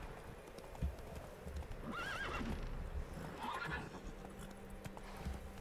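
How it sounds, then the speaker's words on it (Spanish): Wild horses in The Witcher 3 game world, with hooves clip-clopping steadily and a couple of neighs and whinnies rising over soft ambient game sound, moderately distant. "Caballos salvajes."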